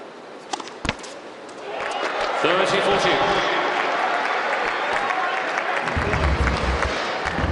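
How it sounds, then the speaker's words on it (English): Crowd at a mixed tennis match featuring Federer breaks into loud cheering and sustained applause, swelling after a couple of sharp impacts and continuing dense and close for several seconds. "each and every point that Federer and the Aces win today will be greeted by a loud cheer"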